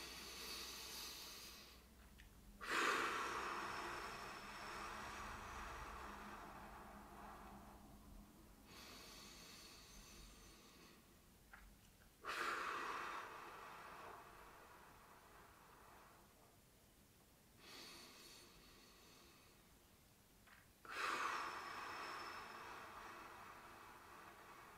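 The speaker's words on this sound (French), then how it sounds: "de nouveau, trois respirations." Slow, deep breaths taken during a gentle seated stretching session, three long inhale-exhale cycles heard close and soft in a quiet room.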